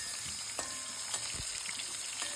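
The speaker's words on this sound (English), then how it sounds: "Now, keeping the flame little low, I am frying these gourds in oil." Stuffed pointed gourds fry gently in oil over a low flame, giving a steady, soft sizzle broken by small pops and crackles.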